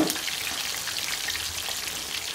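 Tilapia frying in a pan, a dense, continuous close sizzle with a crackling, rain-like hiss throughout, no talking.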